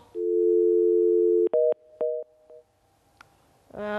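Telephone busy tone sounding after a dropped call-in to a live broadcast: a long steady tone, then several short evenly spaced beeps, followed by a brief click and a voice starting at the end.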